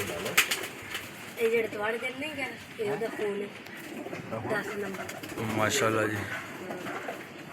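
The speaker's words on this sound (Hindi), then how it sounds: "ये उनके ब्रीडर कबूतर हैं" Breeder pigeons cooing in a cage, with soft, wavering coos repeating throughout and someone talking over them nearby.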